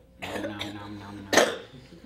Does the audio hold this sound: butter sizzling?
no